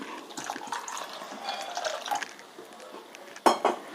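Water poured into a simmering tamarind curry (sundakai vatha kuzhambu) in a pot, a continuous splashing pour, close and fairly quiet, ending with a brief metallic clink of a utensil against the pot.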